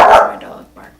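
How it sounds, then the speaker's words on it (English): A dog lets out one loud, close bark at home during a makeup tutorial, followed by a quieter trailing sound as it fades into near silence. "And my dog barking."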